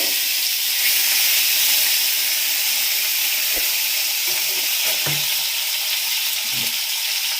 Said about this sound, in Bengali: এবারে আমি এর মধ্যে দিয়ে দিচ্ছি কুচনো টমেটো।